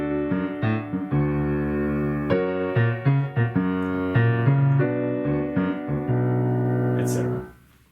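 Low piano notes repeat in a steady left-hand bass pattern, chords changing every bar, played alone and fading out at the end.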